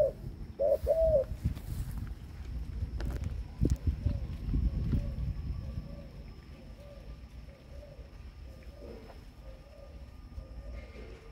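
Repeated cooing from a captive pair of thái đen spotted doves, a series of soft, evenly spaced calls at moderate distance over steady low background noise, with a few louder knocks and handling bumps early on.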